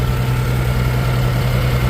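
International Harvester 560 gasoline tractor with a 263 engine idling steadily, a loud, close, even low rumble throughout with no talking.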